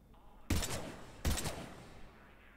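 Two loud, close bursts of weapon fire at a shooting range in the video game Mass Effect 3, each a sharp blast with a short rattling tail, separated by under a second of quiet room tone.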